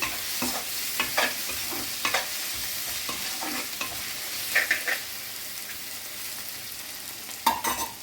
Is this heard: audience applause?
no